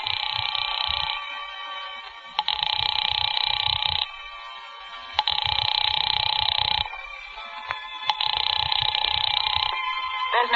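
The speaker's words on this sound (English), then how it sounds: "There's no answer. Shall I keep ringing, sir?" A telephone rings in an old-time radio drama, with four long, even bursts of a bright bell-like trill. Short silent gaps separate the rings, and a low hum sits under each one.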